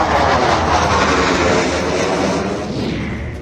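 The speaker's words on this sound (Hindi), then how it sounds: "जेट की लैंडिंग।" Fighter jet such as a Rafale, Sukhoi or Jaguar landing on an expressway used as a runway, a loud close broadband roar of jet engines that slowly fades, with no talking.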